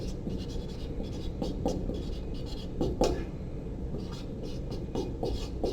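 Marker or chalk writing on a board during a physics lecture, steady scratchy rubbing strokes with brief pauses, close and moderately loud over a low room hum.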